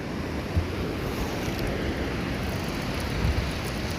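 Ocean surf rolls steadily onto a beach, a loud continuous wash of breaking waves with wind buffeting the microphone throughout.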